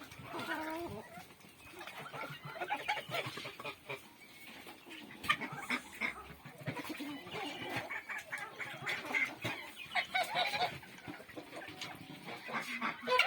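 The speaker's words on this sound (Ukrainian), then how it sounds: "це карликовий віандот" Bantam Wyandotte chickens cluck and call in a farmyard during morning feeding, mixed with honks from geese, an irregular, busy chorus of nearby poultry voices throughout.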